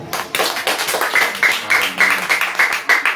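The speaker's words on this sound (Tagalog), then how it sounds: "Palakpak sa Panginoon." A church congregation claps in steady rhythmic unison, the beats loud and close at about three per second, with some scattered extra claps mixed in.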